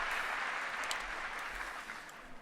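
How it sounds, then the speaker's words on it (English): A PC gaming crowd at the Destiny 2 reveal event claps and cheers steadily, a dense and fairly faint wash of applause that tapers slightly toward the end. "That PC crowd getting hype."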